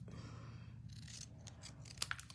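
Scissors trim paper for a handmade stamped card, a quiet short snip or two near the end over a soft background hum.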